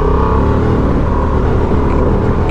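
A Honda Transalp 750 engine drones loudly and steadily as traction control cuts in, the note flat and unchanging with no clear surge, heard up close over rushing wind.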